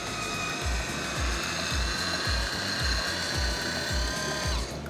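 A Secura electric wine opener's small motor whirs steadily with a rhythmic pulsing grind as it works a cork, close and fairly quiet, running alone for several seconds before winding down.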